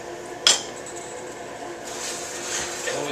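A lid set onto a pot of simmering wine-braised tenderloin gives one sharp metallic clink, followed by a soft steady bubbling hiss with no voice over it.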